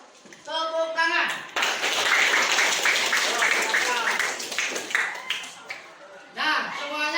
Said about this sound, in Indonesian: Kita kasih aplaus, tepuk tangan.